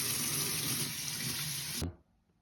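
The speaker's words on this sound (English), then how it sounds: "we're gonna turn on the faucet" Water runs steadily from a kitchen faucet into a sink for hand washing, a loud continuous hiss and splash that cuts off abruptly when the tap is shut, leaving near silence.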